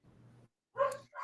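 Dogs barking indoors during an evening live stream, one short low woof followed by a sharper, louder bark and the start of another, close and clear with brief silence between.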